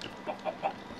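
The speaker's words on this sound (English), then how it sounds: "I just heard a chicken lay an egg" A chicken in Minecraft clucks after laying an egg, giving three short, soft clucks spaced evenly over a second against a quiet background, with no talking.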